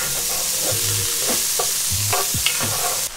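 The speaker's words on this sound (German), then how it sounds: "Die Zwiebeln, die schmoren wir uns jetzt einfach nur ein bisschen mit an." Onions braise in hot fat inside a Dutch oven for pork roast in dark beer sauce, giving a steady sizzling hiss with several utensil stirs and scrapes scattered through it, close and alone.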